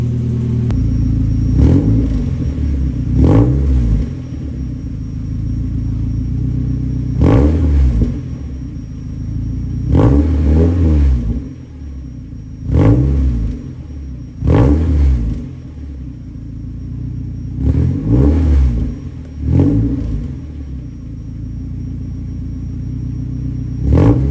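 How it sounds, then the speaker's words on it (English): A Mazda Miata engine with a deep, throaty custom axle-dump exhaust revs in repeated short bursts, dropping back to a rumbling idle between each one. "we're gonna let her warm up a little bit, and then we'll give her some quick revs"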